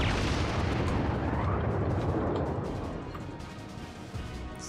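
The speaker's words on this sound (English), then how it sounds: "I should be firing AP" Cruiser guns fire armour-piercing shells in a World of Warships naval battle, a dense, continuous rumble of booming gunfire that fades slightly toward the end.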